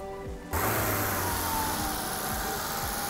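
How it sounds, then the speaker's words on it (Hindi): A Hyundai i20 car engine running on CNG hums steadily at idle, close and continuous, after a short quieter moment at the start. "आप इंजन की नॉइज़ सुन रहे होंगे ये नॉइज़ है आई ट्वेंटी की सी के साथ"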